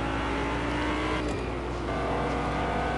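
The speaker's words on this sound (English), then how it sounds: "Oh, I hear a car." A steady car engine drone with a rough, revving hum that shifts slightly midway, continuous and close.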